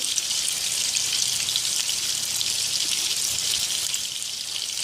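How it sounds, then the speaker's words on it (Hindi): Chopped garlic and ginger frying in a pan of oil and butter, a steady loud sizzle with a bright crackling hiss that holds without break throughout. "अब इसके अंदर ये जो हम लोगों ने गार्लिक और जिंजर काट के रखा था, इसको फ्राई करेंगे।"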